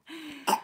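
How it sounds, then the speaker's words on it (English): A single short cough with a throaty rasp, close and fairly quiet, preceded by a brief voiced hum. "cover your mouth when you cough"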